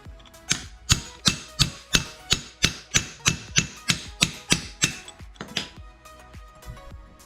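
Metal hammer blows drive an old bearing out of a Saab A/C compressor pulley, about fifteen sharp, evenly spaced strikes ringing loud and close, slowing and softening toward the end.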